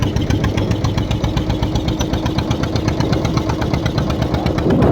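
A ship's engine runs at low speed as the vessel passes close by, a steady loud low throb with regular pulsing and no talk over it.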